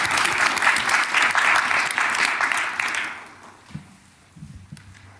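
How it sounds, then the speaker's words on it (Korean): A meeting audience claps at a presidential session with business leaders. The dense, loud applause lasts about three seconds, then fades into a quiet room with a few faint knocks and shuffles. "박수 한번 칠까요?"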